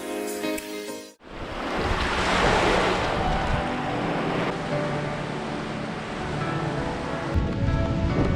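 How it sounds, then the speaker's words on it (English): Cold winter wind gusts along a Lake Michigan shoreline in Point Beach State Forest, Wisconsin, with surf washing in behind it; a loud, sustained roar that cuts in abruptly and stays steady without speech. "That wind is frigid."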